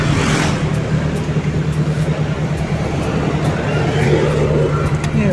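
A warmed-up Toyota Corolla 4AF carbureted engine idles with a steady, even rumble and low hum, close by and constant, while someone talks over it.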